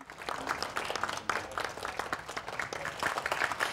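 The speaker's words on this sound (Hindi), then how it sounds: "तो जोरदार तालियों से हम स्वागत करेंगे" Applause welcoming a poet at a Holi poetry gathering, a moderate crowd clapping in a continuous patter with uneven bursts, somewhat distant.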